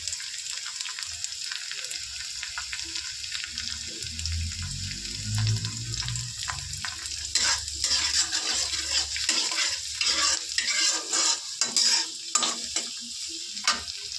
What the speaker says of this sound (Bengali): দেখো আদা রসুন দিয়ে হালকা ভেজে নিয়েছি।